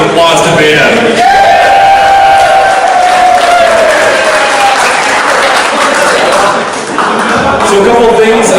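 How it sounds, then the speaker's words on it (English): Crowd applause at a Warhammer 40K tabletop gaming tournament, loud sustained clapping and cheering filling a hall, with a voice and a whistle-like tone rising above the din. "let's give a huge round of applause to Beta"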